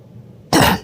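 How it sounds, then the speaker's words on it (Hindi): A woman gives a single sharp, loud cough, close by, after a brief quiet moment. "खांसी वगैरह आ रहा है, खांसी, सर्दी, जुकाम"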